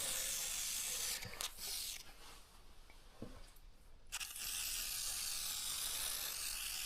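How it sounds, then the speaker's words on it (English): A can of electrical contact cleaner sprays onto a squealing blower motor in steady hissing bursts, loud and close, with a short pause near the middle before the spray resumes. "I'm going to clean with the electrical sprayer, and from all sides as much as I can."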